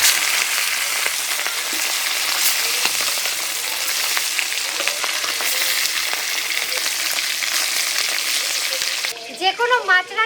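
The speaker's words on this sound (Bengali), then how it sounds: "এই দেখুন মাছটা লাল লাল করে ভেজেছি, এখন আমি তুলে নেব।" Fish frying in a pan crackles and sizzles steadily up close for most of the stretch, then gives way to a few brief clattering knocks near the end.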